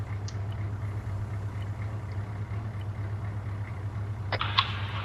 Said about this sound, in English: that engine noise is super loud